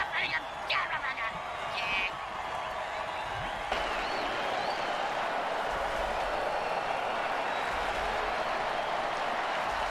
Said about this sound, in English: It's a jailbreak, and the defense jumps offside to kill the ref. Ho, ho Crowd's loving it.